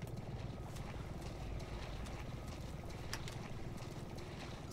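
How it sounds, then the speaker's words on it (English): A military helicopter approaches in Resident Evil 7, a faint, steady low rotor drone with wind-like rushing that holds evenly throughout without distinct beats. "So the military is coming with a helicopter"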